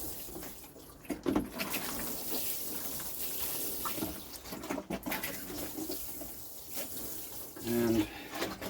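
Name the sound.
watering plants with water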